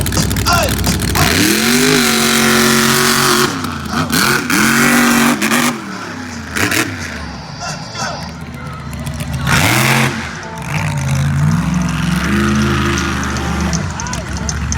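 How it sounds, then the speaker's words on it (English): A monster truck engine roars and revs hard at a side-by-side elimination race in West Salem, Ohio, rising and falling in loud bursts with a few brief dips, while an announcer talks over it. "So Joey goes down track with our Bad Habit entry."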